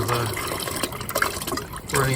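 Water runs steadily from an Airstream trailer's hot-side faucet, a wet splashing hiss with uneven gurgles and changes in flow over a couple of seconds.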